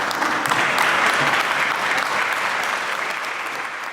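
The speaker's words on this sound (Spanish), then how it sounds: "Una lluvia de aplausos, de alegría," Crowd applause and cheering after the 2018 Mexican presidential debate, a thick, continuous wash of clapping at steady loudness, tapering slightly near the end.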